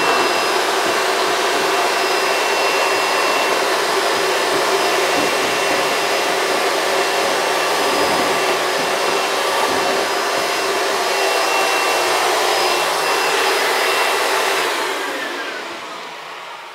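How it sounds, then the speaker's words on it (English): A vacuum cleaner fitted with a narrow extender nozzle roars steadily while sucking lint out of a clothes dryer's lint trap housing, a loud, close, continuous whoosh that winds down near the end. "you want to vacuum out the little part that the lint trap sits in. So turn your vacuum on and get the little extender."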